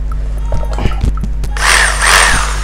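A Bosch 3-function 220V electric hammer drill, a Japanese domestic-market model, starts up after a few clicks and handling knocks and runs with a steady high whine close to the microphone.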